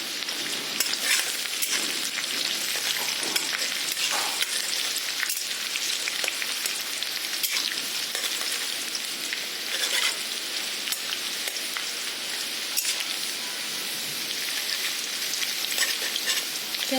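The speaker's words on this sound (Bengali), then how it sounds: "পেঁয়াজটা একটু হালকা লাল লাল করে ভাজি নেব আগে" Onions fry in oil in a pan over a full flame, a steady dense sizzle lasting throughout with faint crackles and occasional stirring clicks, close and continuous.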